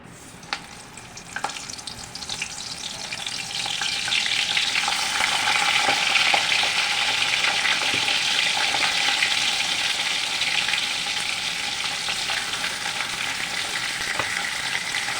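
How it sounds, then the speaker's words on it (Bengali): Fish heads rubbed with salt and turmeric fry in hot oil with a loud, steady sizzle close by, occasional stirring clicks, and the crackle building after the first few seconds and holding to the end without any talk. "তারপর মাছের মাথার মধ্যে নুন হলুদ মাখিয়ে মাথাগুলি ভেজে নেব"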